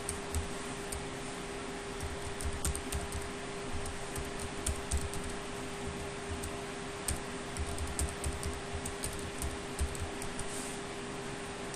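Someone types a password on a computer keyboard during a SharePoint 2016 server installation, a steady run of light, quick key clicks over a constant low electrical hum, with no speech.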